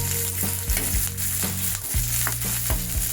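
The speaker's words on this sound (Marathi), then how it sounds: "आपली हिरवी मिरची, लसूण आणि अद्रक जरा परतून घेतले तेलावरती छान डाग पडेपर्यंत" Green chillies, garlic and ginger sautéing in a little oil for Maharashtrian chicken kharda, a loud close sizzle broken by repeated spatula scrapes and stirs.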